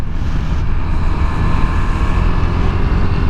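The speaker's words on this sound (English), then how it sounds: "Fourth gear right now, just kind of chugging along." A KTM 390 Adventure motorcycle chugging along in fourth gear on a wet road in the rain, a loud, steady, low engine drone mixed with heavy wind rush, without talk.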